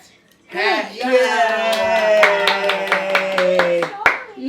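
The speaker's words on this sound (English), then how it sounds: "Clap for brother." A young boy claps his hands in a quick run of about eight sharp claps while an adult talks and sings encouragement over them, all close and clear indoors.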